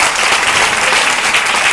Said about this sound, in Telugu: ఆ లేడీకి ఒకసారి గట్టిగా క్లాప్స్ అవ్వండి